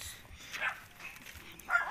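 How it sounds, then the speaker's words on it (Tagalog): A dog barks a few times at a distance, short sharp yaps separated by pauses, fairly faint against outdoor background noise on a hill trail in Morong, Rizal. "sabi na may aso eh"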